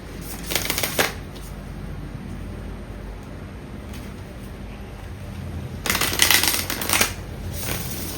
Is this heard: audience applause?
no